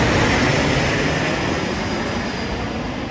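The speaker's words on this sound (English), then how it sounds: "that Southwest 737 appears, making its final approach for runway 27 at San Diego International." A Southwest Boeing 737 airliner on final approach to runway 27 at San Diego International passes low overhead with a loud, continuous broadband jet roar that fades slightly as it goes by.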